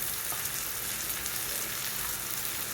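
Spices such as amchur powder, salt, garam masala and coriander-cumin powder sauté in a pan on a gas stove, giving a steady, close, hissing sizzle with no voices.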